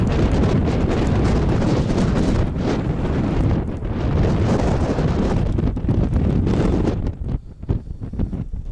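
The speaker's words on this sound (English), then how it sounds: "Probably hear the wind, it's blistering." Strong blizzard wind in Oklahoma roars and buffets the microphone in loud, continuous gusts, with brief dips and sharper bursts near the end.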